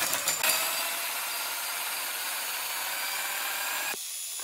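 A steady, high-pitched grinding whir of a small drill-driven hone scrubbing inside a Rover 45 front brake caliper bore, close up, continuous for a few seconds before easing off.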